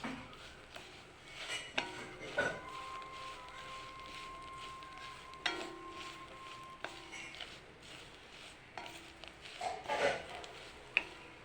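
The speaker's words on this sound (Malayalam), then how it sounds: "അപ്പോൾ നമ്മൾ ചീനച്ചട്ടിയിലിട്ട് വേപ്പില ഇളക്കിക്കൊണ്ടിരിക്കുകയാണ്." Neem leaves being stirred in an iron wok for a hair-care preparation, heard as faint, irregular scraping and light metallic clinks of a spoon against the pan, quiet and close.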